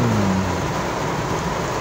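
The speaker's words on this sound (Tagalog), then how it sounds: "dahil po sa lakas ng ulan." Steady heavy rain hisses loudly and continuously on Quezon Avenue, Quezon City, with a low rumble of traffic beneath and no voices.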